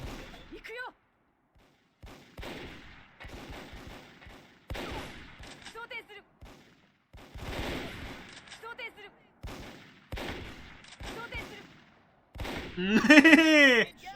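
Gunfire from the online shooter Micro Volt crackles in short bursts between stretches of excited speech, with a louder volley near the end amid synthetic game effects.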